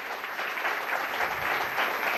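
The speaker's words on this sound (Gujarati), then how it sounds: "એના માટે એકવાર જોરદાર તાળીઓ થઈ જાય" Steady crowd applause at a Women's Day gathering honouring the Khargar community, many hands clapping continuously at moderate loudness.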